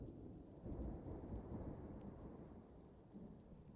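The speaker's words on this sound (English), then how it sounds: "I've been rained on, it's annoying." Steady rain in the Dwarf Fortress video game, a dense continuous hiss with low rumbling like a storm, fairly quiet and unbroken throughout with no talk.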